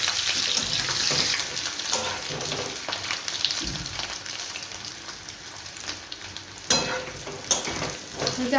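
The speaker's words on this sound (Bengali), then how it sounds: "এবার সুন্দর করে লাল লাল করে আলুটা ভেজে নিতে হবে" Potatoes dusted with turmeric fry in hot oil, a steady sizzle broken by clanks and scrapes of a spatula stirring, close and fairly loud, with no talking.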